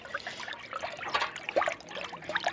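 Oil from a capsule being stirred into chickens' drinking water, a soft close trickling and sloshing of water with small splashy bursts, fairly quiet and with no talk.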